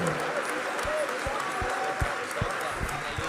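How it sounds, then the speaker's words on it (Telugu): A church congregation claps hard while praising God, a dense, steady patter of many hands with a few sharper beats, heard close and loud beneath a speaking voice. "దేవుని స్తుతిస్తూ చప్పట్లు కొట్టండి గట్టిగా."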